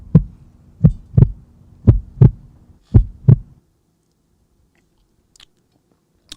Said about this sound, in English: That beat, that heartbeat,